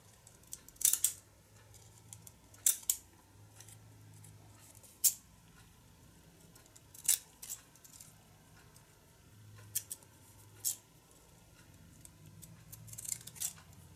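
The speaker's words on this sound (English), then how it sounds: "this pair of scissors that I got in Walmart" Scissors snip paper in short, crisp bursts scattered irregularly across a quiet background, with a faint low hum between cuts.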